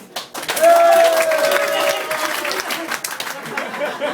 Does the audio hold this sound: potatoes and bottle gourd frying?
no